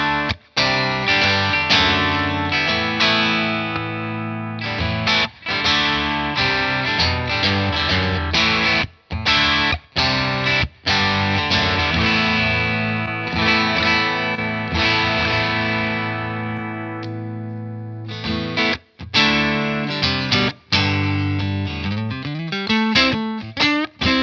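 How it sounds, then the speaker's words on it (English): An electric guitar played through a Boss OD-3 overdrive pedal, strummed chords and riffs with a thick, distorted crunch, sustained loud and steady with a few short pauses and rapid picked notes near the end. "I hear the overdrive"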